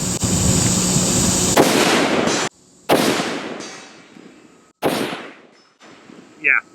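An IWI Tavor X95 rifle is fired at a range with targets at 200 yards, giving several loud, sharp reports, each followed by a long, rolling echo that fades across open ground.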